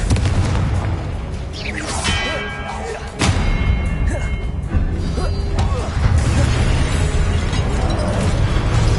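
Confringo fire spells burst in the Hogwarts Legacy game during a duel alongside other spellcasting, with a sharp booming hit partway through over a loud, busy, continuous din.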